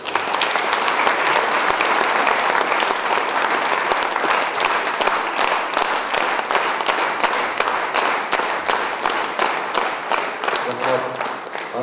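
A crowd gives sustained, even applause for an honorary award presented to Zamir Mukashev, the dense clapping carrying on strongly for several seconds before thinning slightly at the end.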